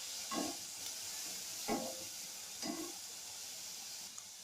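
Onion and carrot frying in a pan for a breakfast batter, a soft continuous sizzle broken by three stirring scrapes at roughly even intervals, quiet and close.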